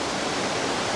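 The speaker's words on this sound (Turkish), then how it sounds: "Burayı Hakkari Hava Şelalesi, çok güzel bir yer." Waterfall in Hakkari, Turkey, roaring as a steady, loud, dense wash of falling water with no breaks and no voices.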